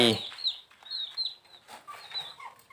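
A large hen near her clutch of eggs clucks in a series of sharp, repeated calls, close and fairly loud, with brief gaps between them and no talking.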